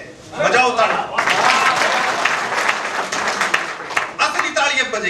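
A poetry event audience breaks into loud applause, dense sustained clapping from a crowd that swells after a brief opening and carries on for several seconds, with a few voices mixed in.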